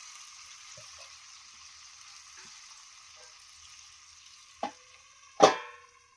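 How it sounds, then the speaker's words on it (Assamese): Wild kathfula mushrooms simmer in a pan after a splash of water, giving a soft, even sizzle, then two sharp, louder bursts of hissing near the end. Nobody speaks. "আমি এতিয়া অলপ পানী দি দিওঁ, কিয়নো এই বেছি শুকান হ'লেও ভাল নালাগিব"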